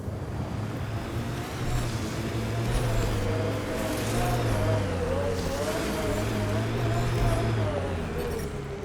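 Vehicle engine in Mass Effect Andromeda drones and revs steadily at close range throughout, with a voice talking over it.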